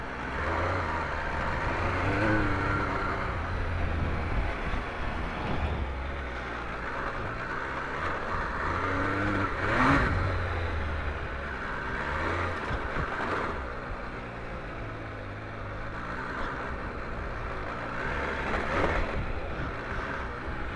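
An MV Agusta Enduro Veloce adventure motorcycle being ridden, its engine a low droning rumble that rises and falls with the throttle, largely buried under heavy wind buffeting.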